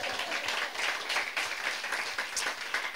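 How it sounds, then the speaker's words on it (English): Applause from a stand-up comedy audience during a sustainable-themed set, a dense patter of clapping filling the room at steady moderate volume for a few seconds, with no voice over it. "Thanks for the applause."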